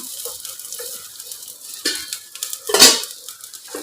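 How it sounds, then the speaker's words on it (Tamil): Chopped chow chow sautéing with tamarind in a pan over a low flame, a soft steady sizzle broken by a few louder scrapes and clinks of the stirring spoon, no voices. "கருகாமல் லோ ஃப்ளேம்லேயே வச்சு இதை வந்து நீங்கள் வதக்கி எடுத்துக்கோங்க"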